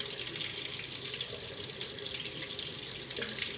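Cold water runs steadily from a tap onto a hand, a continuous close hiss and splash that fills the whole stretch with no talk.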